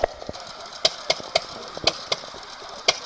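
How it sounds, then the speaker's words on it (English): An antique hit-and-miss engine runs at a tractor show, giving sharp, irregularly spaced exhaust pops and knocks over a quiet mechanical background, heard fairly close. "What they call the hit and miss engine. As you can tell by the sound of it"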